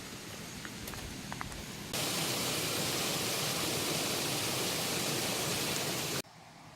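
The Khlong Chak waterfall on Koh Lanta island gives a dense, hissing roar of falling water that swells up suddenly, holds loud and steady for several seconds, then cuts back to a fainter background rush.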